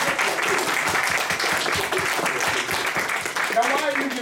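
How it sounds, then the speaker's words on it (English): Church congregation clapping hands at a Sunday service, a steady dense applause filling the whole stretch, with voices calling out over it near the end. "Give them a hand clap."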